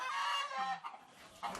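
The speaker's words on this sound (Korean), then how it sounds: "이 화려한 깃털의 닭은 재래 토종닭이 맞을까?" Korean native long-tailed chicken with showy plumage and a long black tail, clucking close by in short throaty bursts over about a second and a half.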